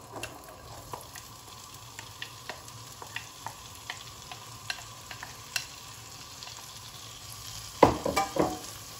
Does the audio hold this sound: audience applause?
no